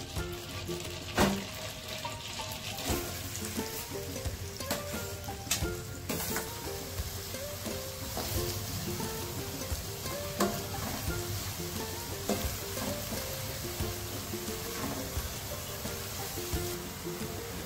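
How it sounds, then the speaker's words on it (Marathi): Two medium onions, finely chopped, frying in melted butter in a pan for Mumbai-style pav bhaji, a continuous close sizzle with recurring stirring knocks and scrapes, no speech. "बटर विरघळल्यानंतर आपण त्यामध्ये 2 मोठ्या मध्यम आकाराचे कांदे बारीक चिरून घेतलेले आहेत ते घालूयात"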